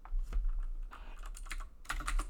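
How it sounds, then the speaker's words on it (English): Typing on a computer keyboard at close range: a quick, uneven run of soft key clicks in short bursts, with a brief pause before a final cluster of taps. "Wow, I can't type true, T-R-U-E."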